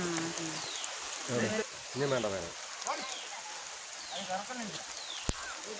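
Steady rain falls outdoors during an Independence Day flag hoisting, a soft continuous patter beneath people talking, with one sharp tap near the end.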